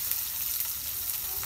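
Chopped onions and green chillies fry in hot oil for a noodle dish, giving a steady, close crackling sizzle that stays even throughout with no voices over it.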